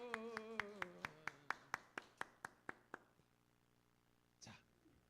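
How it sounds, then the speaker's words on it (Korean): A congregation at a Wednesday Methodist church service in Miryang claps together in a steady rhythm, about a dozen sharp, evenly spaced claps over fading held tones, then near silence with one brief soft rustle. "박수."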